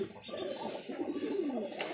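A Madrasi pigeon from a Kolkata breeding pair coos close by in soft, rolling throaty phrases that carry on steadily for about two seconds with no voices over it.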